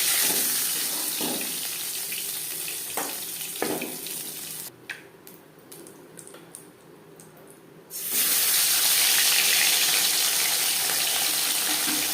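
Live katla fish rinsed under a running tap, a steady broadband gush of water that dips and breaks off briefly midway before flowing strongly again to the end, with no talk.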